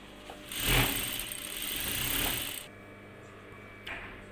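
Sewing machine stitching a skirt seam: a close, steady mechanical whir running for about two seconds and swelling twice, then stopping into a quiet hum with a small click near the end.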